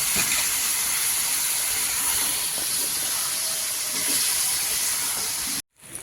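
Spice paste with water sautéing in a pan for a rohu fish curry, giving a steady, even hissing sizzle that runs unbroken until an abrupt cut near the end.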